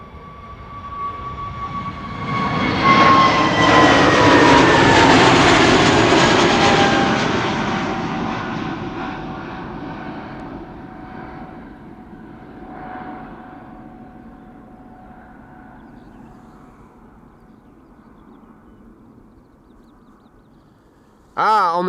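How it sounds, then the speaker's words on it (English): An EasyJet Airbus A320neo bound for London Luton roars down the runway at Amsterdam Schiphol, rising quickly to a loud whining rush, then fading into a distant rumble, ending with a brief burst of sudden noise. "we have an A320neo going to London Luton next"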